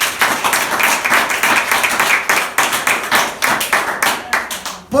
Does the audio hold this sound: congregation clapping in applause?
yes